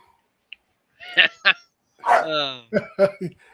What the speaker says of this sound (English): Getting his barks in now, huh?